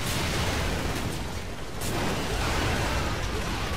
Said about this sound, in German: Das war der Hubschrauber.